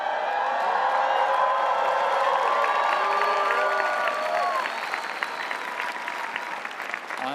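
A large commencement audience applauding: broad crowd clapping with cheers and whoops riding on top, loud and sustained before the cheering fades and scattered claps continue.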